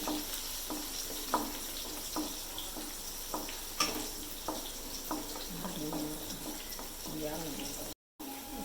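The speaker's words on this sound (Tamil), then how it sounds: "வெங்காயத்தை போடுறேன்." Steady sizzling of onions frying in a pan for fish curry, with occasional clinks and stirring scrapes, fairly close and continuous throughout.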